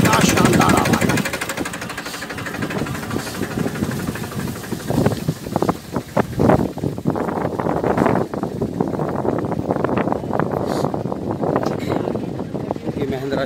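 A 2013 Mahindra 575 DI tractor engine runs steadily nearby, its rough knocking chug with loud irregular bursts, partly masked by wind noise and people talking over it.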